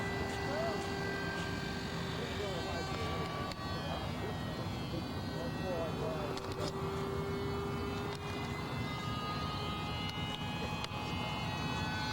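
An F5B model airplane runs at full throttle over Mission Bay, its high electric whine steady and fairly distant, with people talking nearby the whole time.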